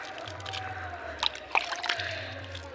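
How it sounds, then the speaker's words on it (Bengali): A small amount of water is poured onto a newly planted flower plant, giving faint sloshing and trickling with a few soft splashes over a low background hum. "তো গাছটাতে এখন জল দিয়ে দিচ্ছি"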